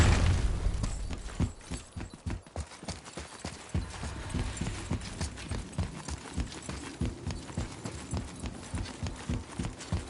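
Steady, rhythmic clip-clop of horse hooves at a brisk trot in the video game God of War, fairly loud and close, with a low rumbling backdrop and no talking.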